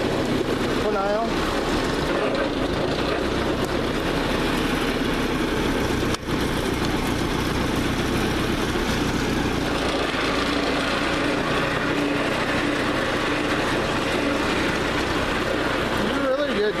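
A farm tractor's engine runs steadily at close range as the machine backs up to its parking spot, a constant rumbling drone with higher mechanical whine throughout, with no pauses.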